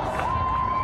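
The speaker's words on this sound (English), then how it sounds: "The crowd chanting "One Pulse" in honor of the victims." Marchers' crowd at a Pulse nightclub memorial march, a dense wash of massed voices rising together in a sustained chant-like call, close and continuous for under a second.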